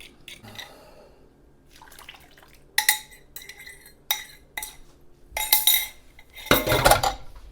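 Cranberry orange muffin batter being mixed in a bowl, with irregular clinks and scrapes of a utensil against the dish that grow louder and busier toward the end, close and without talk.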